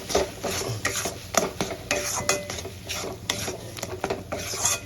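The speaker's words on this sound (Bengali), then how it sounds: "গুঁড়ো মশলাগুলো এর সঙ্গে মিক্স করে ভেজে নেব" Prawns stirred and fried with ground spices in a pan for prawn dal: a continuous run of quick scraping spatula strokes over a light sizzle, close and fairly busy throughout.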